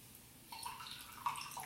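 Juice from half a lemon drips and trickles into a glass of warm water, a faint wet patter with a few small splashes, quiet and close.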